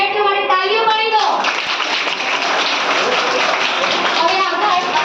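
Primary school students at Mobha school clap for classmates taking part in a school talk show, a loud, busy burst of many small hands that starts after a moment of voices and carries on steadily.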